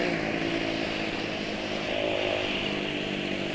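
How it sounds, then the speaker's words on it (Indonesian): A motorcycle engine runs steadily with a loud, raspy exhaust drone, holding a constant pitch with a slight swell near the end. "kalau knalpot keras gini bikin suara mesin kedengaran halus ya."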